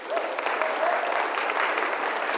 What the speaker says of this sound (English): Can we give one more round of applause for all of our choir who came up here?